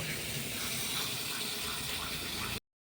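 Meat is washed under running water, a steady close hiss and gush of flowing water that holds for about two and a half seconds and then stops abruptly.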